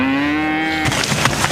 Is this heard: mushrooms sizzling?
no